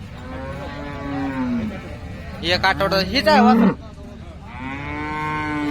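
A cow that has recently calved moos loudly in a long, drawn-out call, close by at a cattle market, with a person talking before and after it.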